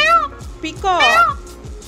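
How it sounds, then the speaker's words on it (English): A peacock lets out two loud, wailing, cat-like calls close by, the second longer and rising. "Peacock,"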